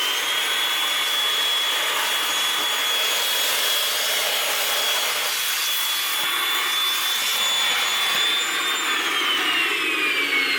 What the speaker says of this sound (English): I got a bunch of loose crap right there.